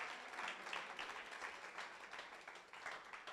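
A church congregation claps and applauds in praise, a faint, continuous patter of many hands at a distance, rising and falling slightly without pause.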